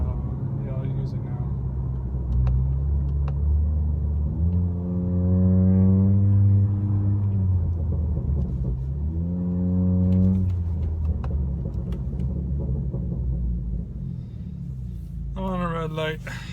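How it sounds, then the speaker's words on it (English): A 2019 Honda Accord with a loud exhaust drones and climbs through two rising engine pulls, low and rumbling, shifting gears with paddle shifters, while someone speaks over the sound. "let me switch it to a paddle shifter so you guys can see what it sounds like when you're using paddle shifters"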